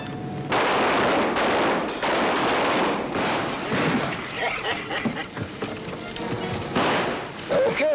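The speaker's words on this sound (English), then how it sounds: "Go ahead. Keep shooting." Loud, rapid gunfire rings out in a 1943 classic western film, with bursts of shots, ricochets and echoing reports through a shootout, and voices shouting amid the noise.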